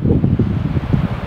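Wind gusting across a fishing lake buffets the microphone with a steady, loud low rumble and rustle for the whole short stretch.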